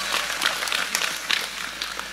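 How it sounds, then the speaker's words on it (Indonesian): An audience at an Indonesian religious lecture claps in a brief, dense burst of applause, loud and sustained with scattered sharper claps throughout. "tepuk sing banter gak usah sungkan."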